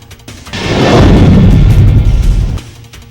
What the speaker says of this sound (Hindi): खार्किव की फ्रंट लाइन पर तोपों के गोलों से जमीन थर्रा रही है।